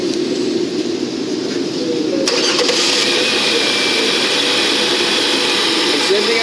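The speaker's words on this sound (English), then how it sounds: "So now we're going to go around and start the vehicle." A vehicle engine cranks and catches partway through, then runs at a steady, loud broadband hum throughout, during alternator testing in an automotive shop.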